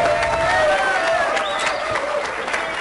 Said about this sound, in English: take your applause